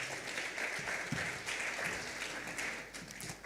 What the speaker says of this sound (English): Let's give them an applause as well